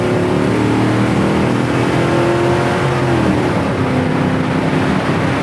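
A restomod 1969 Chevy Camaro engine drones loudly and steadily, its pitch rising to about 4,500 RPM and holding as it revs, heard from close inside or beside the car.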